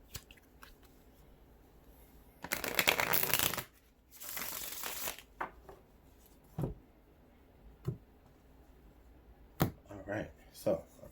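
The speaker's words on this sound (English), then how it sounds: "Okay, one more shuffle." Tarot cards shuffled by hand in two dense riffling bursts, then scattered soft taps and clicks as the deck settles, close and fairly quiet.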